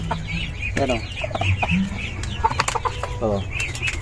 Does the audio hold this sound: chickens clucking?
yes